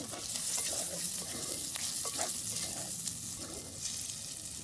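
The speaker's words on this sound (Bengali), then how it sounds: "দেখুন এবার আমি সুন্দর করে আগে মাংসটাকে ভালো করে কষিয়ে নেব" Chicken and tomato sautéing in a pan for chicken ghugni, a dense continuous sizzle with light scraping stir strokes, close and steady, no voices.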